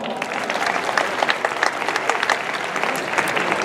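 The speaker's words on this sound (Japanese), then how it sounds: "今一度拍手" Warm applause from a crowd at a Tokyo send-off ceremony for inter-high school athletics competitors, steady dense clapping throughout with a few sharper individual claps standing out, fairly loud and close.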